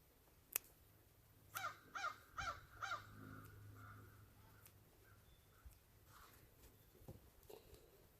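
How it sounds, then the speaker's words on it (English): Hawks call outdoors in a burst of four raspy, evenly spaced cries, moderately distant, followed by quiet open-air ambience with a few faint rustles. "You can hear the hawks."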